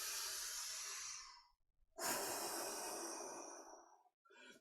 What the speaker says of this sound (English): Inhale. Move that energy. Inhale.